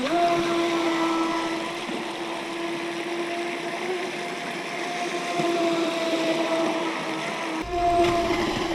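A Rage RC Black Marlin EX brushless RC boat runs across the water with a steady, high electric motor whine and hiss of spray, briefly surging louder near the end.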